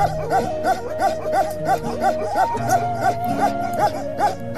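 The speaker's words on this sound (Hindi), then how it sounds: "Open mouth barking." Himalayan livestock guardian dog of the Kashmir line barking with an open mouth, a steady, rhythmic run of deep, loud barks, roughly three per second, repeating without pause.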